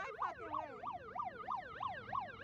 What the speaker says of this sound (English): Again with that stupid siren